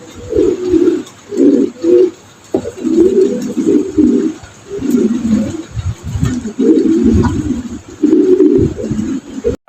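Pigeons coo in repeated throaty bursts at a busy pigeon market, loud and close, with short pauses between phrases and faint background noise.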